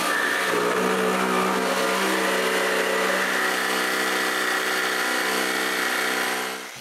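A power saw cuts wooden bandsaw wheels close to their marked lines, a steady high whine holding for several seconds before it stops abruptly.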